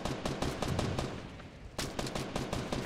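A Tommy gun firing in the battle royale game Fortnite, dense rapid bursts of shots rattling loudly and continuously, with a brief lull midway before the firing picks up again.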